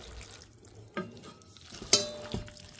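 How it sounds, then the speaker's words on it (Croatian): Food being stirred in a frying pan, a few distinct scrapes and clinks of the utensil against the pan over a quiet background, with one sharp metallic knock near the middle. "E, u tavu izmiješat ću."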